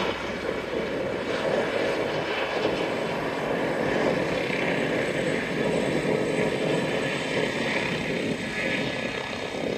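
A propeller aircraft approaches the runway to land at Grenoble Airport, producing a continuous engine drone and rumble at moderate distance that holds steady throughout, with faint background noise around it.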